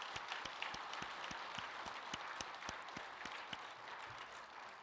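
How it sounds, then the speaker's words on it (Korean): A church congregation applauds through a Sunday worship service, a dense steady wash of many hands with a few sharper nearby claps rising out of it, moderately loud and continuous from start to finish. "우리 박수로 환영합니다"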